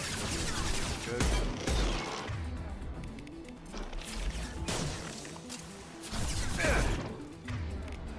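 Bursts of rifle fire and impacts in the video game Mass Effect 2, several sharp volleys spread across the clip over game sounds and background effects.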